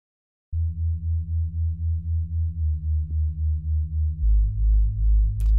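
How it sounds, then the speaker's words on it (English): A deep, dark Reese bass synth for ambient future garage drones in steady pulsing notes, dry and unprocessed, shifting pitch twice and ending with a short click. "this is that bass without any post-processing on it"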